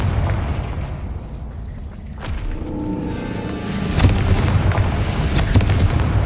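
A Confringo fire-blast spell explodes in Hogwarts Legacy, with a dull boom and crackling burst over low rumbling ambience, followed by a second, brighter impact partway through.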